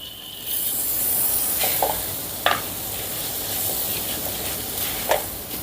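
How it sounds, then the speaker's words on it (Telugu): Boiled sorghum grains are stirred into a sizzling spiced tempering in a pan. A constant close fry hiss is broken by two distinct spoon scrapes against the pan, with no talking. "ఇప్పుడు ఈ పోపులో ఉడకబెట్టిన ఈ గుగ్గిలను వేసుకుందాం"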